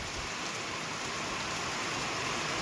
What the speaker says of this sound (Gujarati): અત્યારે કાંઈ વરસાદ સારામાં સારો વરસાદ વરસી રહ્યો છે